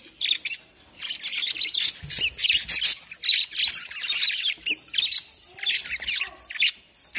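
Lovebirds nesting in a clay pot give repeated sharp, shrill squawks and chirps in quick irregular bursts, close and loud throughout, with no talking.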